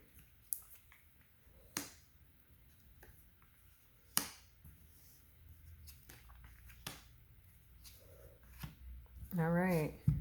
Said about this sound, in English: Just going to give a quick shuffle again.